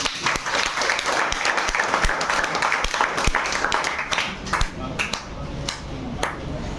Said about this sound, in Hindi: भाइयों, तालियों में कंजूसी नहीं होनी चाहिए।